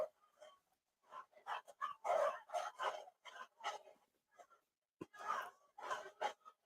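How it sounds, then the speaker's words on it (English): Several Chihuahuas yap in quick irregular bursts, small high-pitched barks with brief whimpers between them, heard fairly close with short pauses. "those are my Chihuahuas"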